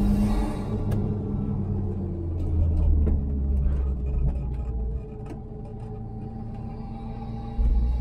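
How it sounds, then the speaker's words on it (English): A Carver One tilting three-wheeler with a small turbocharged K car engine drones steadily from inside the cabin, with a low continuous engine rumble and road noise that swells slightly mid-way and drops, then surges again near the end. "with this little K car engine and not very much weight"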